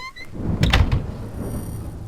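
A hobbit door in the video game HOME opens with a short mechanical thunk and slide, a brief cluster of knocks over a low ambient game hum, alone with no talk.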